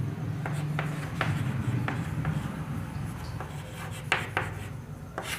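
Chalk or marker strokes scratch across a board in short, irregular bursts during a Class 10 polynomial math lesson, close and moderately loud over a steady room hum, with no talking.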